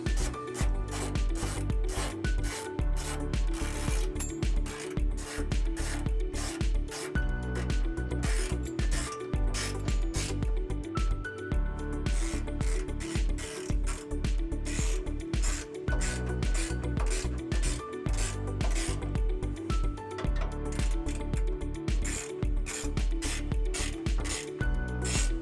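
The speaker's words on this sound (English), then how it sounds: "And then we'll go ahead and tighten them down using a 13mm socket." A ratchet fitted with a 13mm socket tightens trailer hitch bolts on a 2017 Chevrolet Colorado, giving a dense, steady run of close, loud mechanical clicking and rasping that carries on without a break and without talk.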